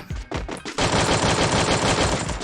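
Rapid automatic gunfire from the mobile shooter game Free Fire, a few scattered shots giving way to a dense, continuous loud burst of fire that fills the rest of the moment.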